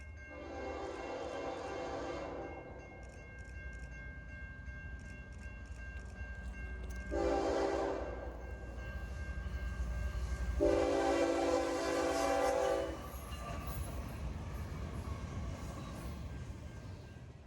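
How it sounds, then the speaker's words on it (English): A Norfolk Southern intermodal freight train passing through Spencer sounds its horn in three loud, sustained chord blasts, the second and third longer, over a continuous low rumble of rolling cars, with no voices. "Here's a Norfolk Southern intermodal making its presence known through Spencer."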